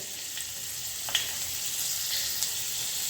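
Garlic sizzles and fries in hot oil in a pan, a steady bright hiss broken by a few small pops and stirring clicks.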